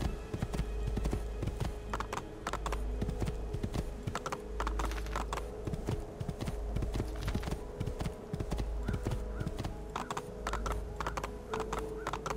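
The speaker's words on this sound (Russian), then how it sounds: "На лошади по городу нельзя скакать." Horse hooves clip-clop steadily on city streets in Assassin's Creed 2, a continuous rapid trotting rhythm with loud close impacts over low ambient hum.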